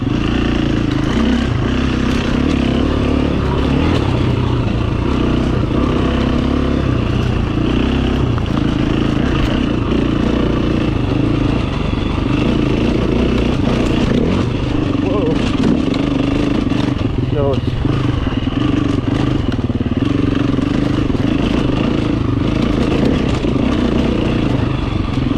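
Enduro four-stroke 350 motorcycle ridden along a tight, rooty trail, its engine droning steadily and loudly throughout with varying revs and rattling clatter, while a rider talks over it.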